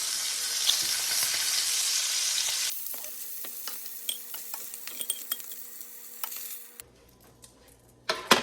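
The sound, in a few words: beef ribs being browned in a pan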